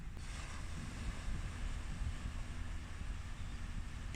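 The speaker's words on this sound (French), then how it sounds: "le vent vient s'y engouffrer et les vagues s'y échouer." Ocean waves wash onto a beach under steady wind, a continuous low, rushing roar with wind buffeting the microphone. No other sounds rise above it.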